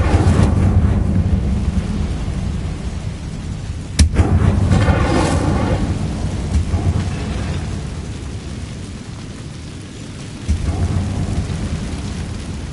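Incendio fire spell cast in the Hogwarts Legacy video game: a sharp crack at about four seconds opens a loud roaring, crackling whoosh of flame over a dense, rumbling background, with another burst of noise near the end.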